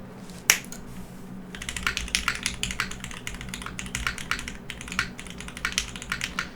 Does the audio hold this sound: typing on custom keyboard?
yes